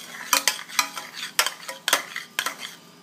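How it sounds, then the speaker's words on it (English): Churro batter being stirred vigorously in a pan, with repeated loud scraping strokes of a utensil against the metal at an irregular rhythm, close up with no talking. "you just keep mixing that around till it starts to separate"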